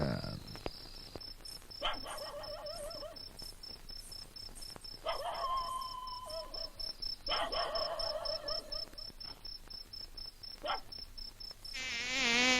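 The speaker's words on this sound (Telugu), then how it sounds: "దోమలు చంపేస్తున్నారా?" High, whining insect buzz rising in several separate bursts over a steady background hiss, like mosquitoes droning close by.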